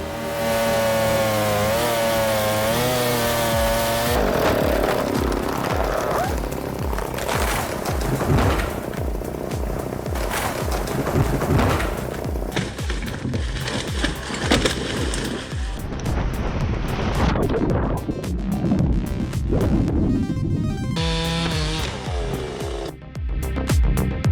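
A chainsaw cuts through dense hardwood, a loud continuous buzzing roar that rises and bogs as the chain bites, running without pause for over twenty seconds with no talk.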